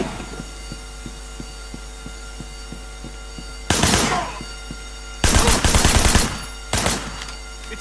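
Gunfire in the Sleeping Dogs video game: bursts of loud rapid shots cutting through a steady throbbing music beat, in two or three clusters, with no talking.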